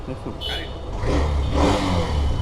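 A motorcycle engine runs close by, a low steady rumble that swells and deepens after the first second and holds through the rest, with faint voices in the background.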